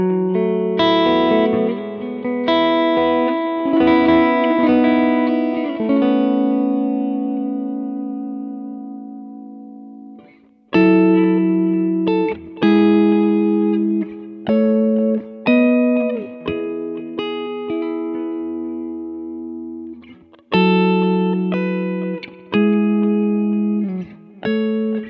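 Electric guitar played through a Kemper profile of a 1964 Vox AC10 amp, chords and single notes ringing rich and clear, strummed in phrases with brief pauses between them, no talk.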